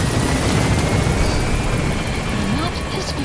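Loud, continuous thudding rotor beat of a helicopter in flight in Metal Gear Solid V, close and steady, with a voice speaking over it.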